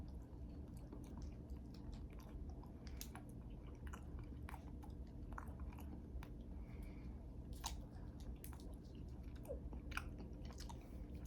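A Canadian candy bar with peanut butter and caramel chewed close to the mic, soft sticky squishing and occasional crunchy bites over a faint steady background.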